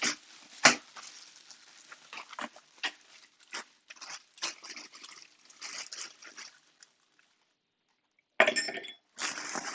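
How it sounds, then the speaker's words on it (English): A handful of ice cubes clinking into a glass while mixing a New Year's Eve sangria, a burst of sharp clinks and rattles, then a pause and another short clatter. "Handful of ice cubes."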